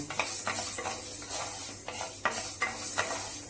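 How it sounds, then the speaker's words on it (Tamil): Horse gram dry-roasting in a pan, about 100 grams, stirred in a quick rhythm with repeated gritty scraping sweeps and faint crackle, fairly quiet and close with no talking. "இப்போ கொள்ளு வறுத்துக்க போகிறோம்"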